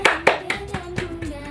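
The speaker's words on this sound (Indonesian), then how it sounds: "Tepuk tangan dulu untuk kita." A handful of hands clap in a quick, even rhythm in a classroom, about seven close, crisp claps with a faint voice underneath.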